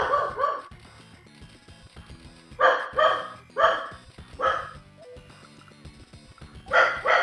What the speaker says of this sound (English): I got a puppy dog barking about stuff